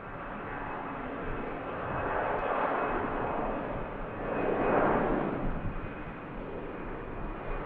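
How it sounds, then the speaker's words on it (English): An Aer Lingus A320 airliner departs from Manchester Airport, its engine roar swelling in broad, distant-sounding waves that peak twice before easing slightly, with no one speaking. "There goes the Aer Lingus 320."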